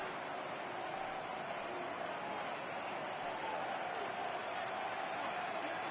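A baseball stadium crowd of over 39,000 cheers on its feet, a steady broad roar of distant voices and applause holding without pause throughout.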